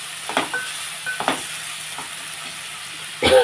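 Tomato pieces cooking in a pan: a soft, steady sizzle with a few scraping stirs and a louder clatter at the end, no talking.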